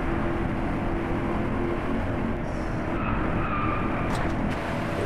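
A Chevrolet Corvette Stingray roars steadily through a race in the DriveClub video game, with a continuous loud engine drone, road rumble and brief tire noise late in the run.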